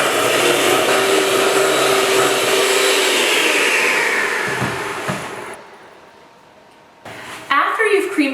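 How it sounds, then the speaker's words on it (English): An electric mixer creams butter and sugar into a fluffy batter for a pear upside-down cake, a steady, loud whirring drone for about five seconds that winds down into near quiet before a brief clatter at the end. "We're going to keep creaming until all of the butter and the sugar are incorporated and that they become almost fluffy"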